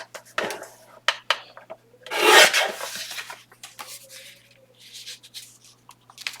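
Junk mail paper being cut down for a craft page, with scattered crisp snips and rustling and a louder rasping swipe in the middle, close up with no talking.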